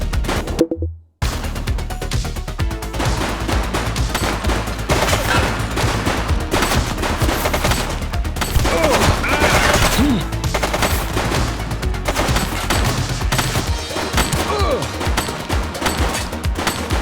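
Sustained automatic gunfire in the police game The Precinct, loud rapid bursts and fusillades rattling almost continuously with a brief break near the start, overlaid with game sound.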